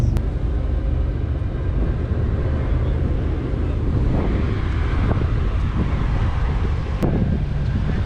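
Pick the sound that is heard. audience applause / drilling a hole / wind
wind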